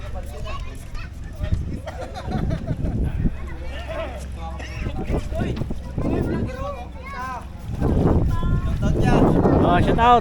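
A passenger boat chugs along on the water off Mindoro Occidental under gusty wind, with a babble of people talking and calling out around it.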